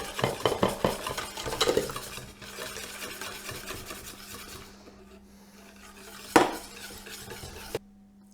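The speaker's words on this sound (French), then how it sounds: "on met un peu de lait avec nos œufs, on mélange bien pour ne pas cuire les œufs" A utensil briskly stirs milk and eggs in a bowl for crème anglaise, scraping and clinking against the sides, loud at first and then softer, with a sharp knock near the end.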